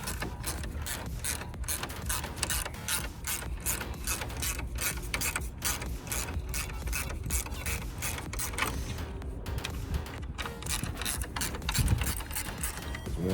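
Ratchet wrench clicking steadily as it loosens 10mm bolts holding the fan in the engine bay of a 2004 Nissan Maxima 3.5 L, a continuous close, busy run of rapid pawl clicks with no talking.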